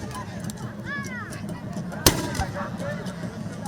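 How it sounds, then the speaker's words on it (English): Dane guns are fired by an emir's royal guard at a Durbar procession heralding the Emir of Dutse. One sharp, loud blast cuts through a busy outdoor crowd, with horn-like tones and murmur around it. "Firing of Dane guns by the Emir's Royal Guard heralds the arrival of the Emir of Dutse, Alhaji Nuhu Muhammad"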